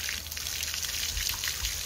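Shower water spraying over an Alaskan Malamute being bathed, a steady hissing patter of running water with no voices.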